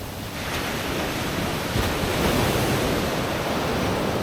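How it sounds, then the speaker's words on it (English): Ocean surf washes steadily onto a beach on Gili Trawangan as the tide comes in, a continuous close wash of breaking waves with some wind rumble against the microphone and no voices. "Tide's coming up behind me."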